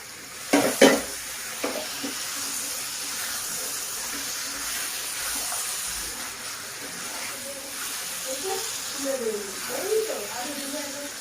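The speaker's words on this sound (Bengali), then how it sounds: "দিয়ে খুব ভালোভাবে মাটনটাকে কষিয়ে নেব" Marinated mutton frying in a pan, a steady sizzle and hiss with a couple of loud spatula knocks at the start and scattered scraping, and faint background sounds near the end.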